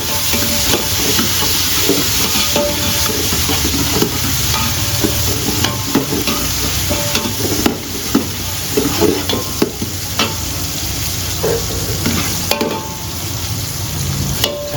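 Chopped onion and finely chopped tomatoes fry and sizzle steadily in a pan for dal fry, with a spatula stirring and scraping now and then, close and continuous without speech.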